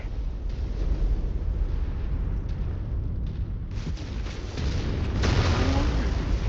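Mech exploding in the MechWarrior 5 video game, heavy rumbling blast noise that swells in waves and grows louder toward the end, over continuous battle roar.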